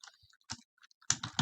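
Keyboard keys clatter in short bursts while SQL code is entered on a computer, a few isolated taps followed by a quick flurry of close, crisp strokes.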